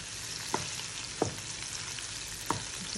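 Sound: squid frying in a pan

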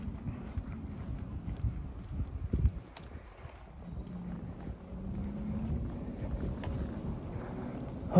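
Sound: wind picking up outdoors on Toronto street

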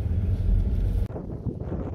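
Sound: strong wind blowing at a lakeside restaurant

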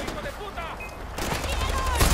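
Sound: gunfire in the video game Far Cry 4

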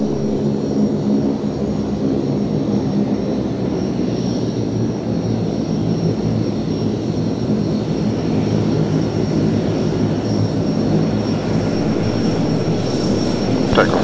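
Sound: Diamond 19 formation aircraft engines, taxiing for take off

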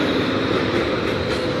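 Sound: Portland streetcar passing

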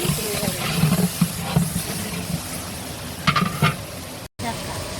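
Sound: onions frying in a large pot

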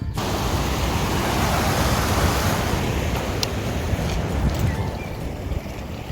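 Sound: small waterfalls along a stream

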